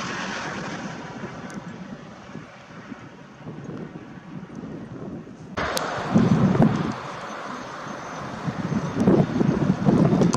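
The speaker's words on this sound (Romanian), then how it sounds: "păcat că e vântul ăsta, nu știu cât de mult mă aud." Wind buffets an outdoor microphone in a rural area with merino rams, rumbling low and steady throughout and growing louder and gustier in the second half, with no talk.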